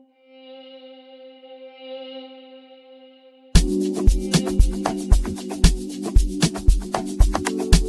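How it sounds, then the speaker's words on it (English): A sustained synth chord washed in reverb fades out, then a punchy Amapiano beat with steady kicks and percussion kicks in, produced in FL Studio. "I'm gonna send it to my mixer and just give it some reverb."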